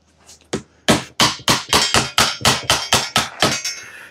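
A 5-in-1 tool driven under an engine valve cover on a Briggs & Stratton Intek engine, a rapid series of about a dozen sharp metallic taps in even rhythm, close and loud.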